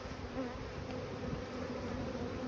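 A honey bee swarm buzzes steadily and close, a dense continuous drone of many wings with no pauses and no voices.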